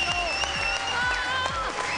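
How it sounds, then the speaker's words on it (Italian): Sustained, dense applause from a large political gathering greets new party leader Angelino Alfano, a steady wash of many hands clapping without pause and no voices standing out. "Poi arriva il lungo applauso per lui,"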